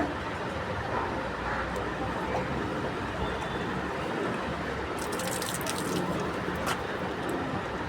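Water being poured onto plants in a garden, a steady splashing gush over constant outdoor background noise, with brighter trickling and drips toward the end.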